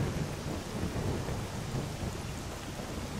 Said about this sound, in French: Cette pluie battante.